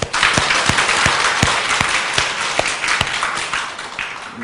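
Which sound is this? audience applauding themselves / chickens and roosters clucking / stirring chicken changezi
audience applauding themselves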